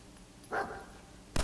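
Dog companion in the video game Fallout 4 giving one short, muffled bark at middle distance, followed by a sharp thump at the end, with no talking.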